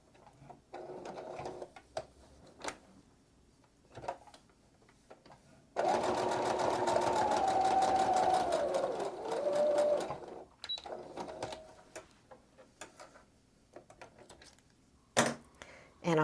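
A sewing machine runs steadily for about five seconds as it stitches a quilt seam, loud and close, with quiet handling clicks and rustles before and after the burst.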